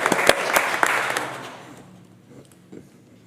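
Short burst of applause at a town council meeting: a handful of people clap close by, quickly fading to a few scattered claps within about two seconds, followed by quiet room tone.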